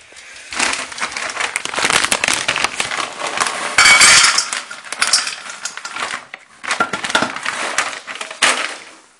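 Dry pet food rattles and clatters into bowls for a cat and a West Highland terrier, coming in several crisp, scattered bursts with short pauses between pours, close and fairly loud.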